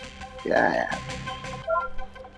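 A mobile phone rings in a household setting with a short burst of electronic melodic tones. It sounds near and moderately loud, mixed with voices talking.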